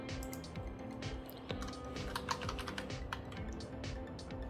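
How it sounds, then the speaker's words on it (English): Rapid keystrokes on a keyboard connected to a tablet, a steady clatter of close, crisp taps with brief pauses, over a faint steady hum. "this is a test for the keyboard connected to tablet."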